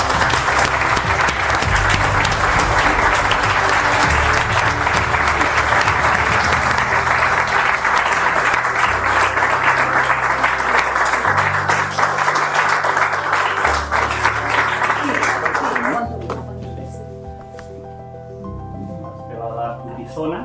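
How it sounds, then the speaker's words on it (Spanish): An audience at a religious freedom awards ceremony gives long, loud, sustained applause that carries on for about sixteen seconds before fading, after which a person speaks. "quiero que me ayudéis a darle un muy caluroso aplauso y felicitación"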